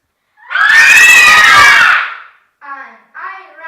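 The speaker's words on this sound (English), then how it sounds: "Suddenly, someone screams." One loud, drawn-out scream rings out for over a second as a horror sound effect, then fades, followed by two short faint vocal sounds.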